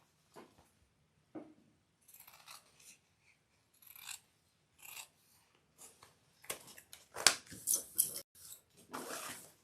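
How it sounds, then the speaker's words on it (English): Scissors snip through the fabric seam allowance of a Juanita sewn bag in a string of short, crisp cuts, sparse at first then coming in quicker bursts, close and fairly quiet with no talk. "Actually, trim my seam allowance first."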